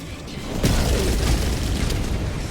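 A strafing run in Helldivers 2 lands as a heavy booming rumble of explosions against Automaton enemies. It builds into a sustained, loud roar with rolling blasts and debris.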